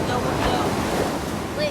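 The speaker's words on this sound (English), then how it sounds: "Just enjoying the beautiful, beautiful beach." Surf washing onto a beach at sunset, with a steady broadband roar of waves mixed with gusty wind buffeting the microphone, and faint voices of children playing nearby.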